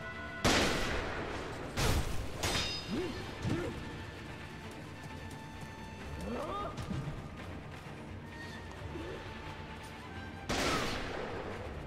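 Gunshots in the video game Sekiro: Shadows Die Twice, a few loud cracking blasts spread across a noisy game soundscape with scattered impacts and clashes.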